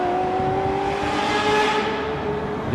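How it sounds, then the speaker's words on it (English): A Ferrari F355 with its 3.5-litre V8 engine screams at high revs in a loud, steady, sustained wail with a slight swell midway. "This produces a sound which many people say is one of the greatest engine noises ever produced."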